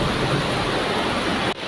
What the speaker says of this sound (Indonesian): Hujan petir juga ya.